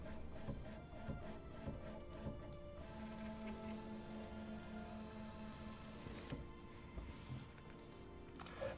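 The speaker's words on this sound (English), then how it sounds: "It starts by testing the x-axis, then it moves the heat bed and tests the y-axis." An Original Prusa MK4 3D printer runs its x-axis self-test nearby, its stepper motors whirring and buzzing steadily through shifting tones with occasional small clicks.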